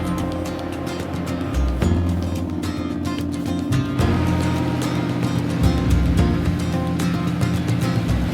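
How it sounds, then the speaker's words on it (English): Wrecker truck with a loud competition-cut transfer case, heard from aboard while driving; a heavy, constant mechanical drone with gear whine and rumbling surges, loud and close. "we had to bring ear protection because this new transfer case is so loud"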